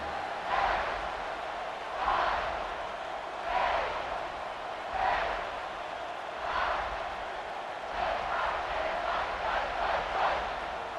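Stadium crowd noise from EA Sports College Football 26, a Miami head-to-head game, swelling in repeated cheering waves roughly every one and a half seconds, steady and moderately loud, with no clear talk over it.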